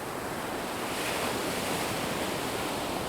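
Sea waves and a breeze at a beach form a loud, steady roar of surf with airy wind rush, continuous and close, with no voices.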